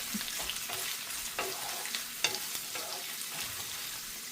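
Sliced onion, chilli and garlic sauté in a pan for a horse gram chutney, a soft continuous crackle and sizzle with light scrapes of a spoon, fairly quiet and close.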